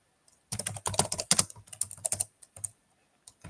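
Close, crisp typing on a computer keyboard during a C++ programming session, several quick bursts of keystrokes separated by short pauses, with no voices.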